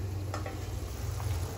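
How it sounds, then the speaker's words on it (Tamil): Thick paneer curry bubbles and simmers steadily in a pot, a continuous low burble with a faint click or two of stirring. "நல்லா கொதிக்குது"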